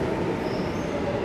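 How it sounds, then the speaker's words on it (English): A video game train rolls past, a steady low rumble with a faint high squeal from the wheels, continuous and fairly close for the whole moment. "There goes the train."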